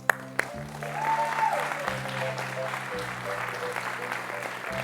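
Audience at a tech event magic show applauding as volunteers line up on stage, a moderate wash of clapping under steady sustained background music chords, with a couple of sharp knocks at the start.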